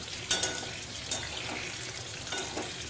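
Potato and pointed gourd fry in a pan with a soft continuous sizzle, punctuated by a few sharp scrapes and clinks of a spatula stirring, close and moderately quiet, no talking.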